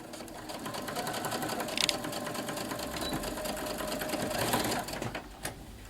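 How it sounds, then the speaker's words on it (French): Sewing machine stitching a skirt lining, running close and steady for most of the stretch with a fast even whir, briefly easing near the end. "Sinon, vous pouvez passer directement sous la machine."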